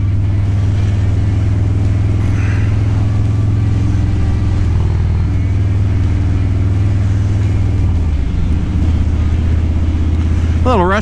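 A Harley-Davidson Street Bob motorcycle rumbles steadily while being ridden, its deep engine drone shifting pitch as the rider works through gears, with a rising rev near the end and talk intermittently over it.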